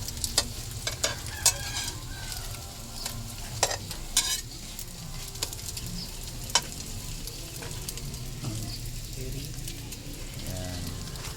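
Torta fries in a pan in an eatery kitchen, with a steady close sizzle, crackles and occasional stirring or scraping clicks throughout, and no talking.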